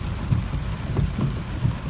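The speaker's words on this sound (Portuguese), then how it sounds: "Muita chuva em São José da Tapera." Heavy rain pours steadily in São José da Tapera in the Brazilian sertão, a dense loud wash of falling water with a low rumbling undertone, no voices.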